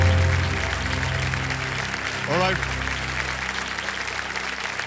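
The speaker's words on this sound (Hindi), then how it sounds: "तालियां बज जाए दे दीजिए।" Studio audience applause on the Kaun Banega Crorepati game show, a steady broad wash of clapping under music, with a short spoken word from a man over it.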